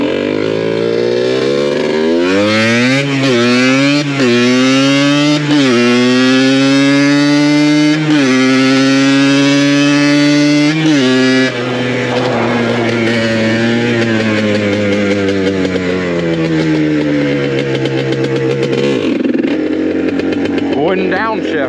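A Yamaha Blaster ATV engine runs loud and close, its revs climbing and falling in repeated steps as it shifts gears, then settling into a rougher, uneven drone near the end.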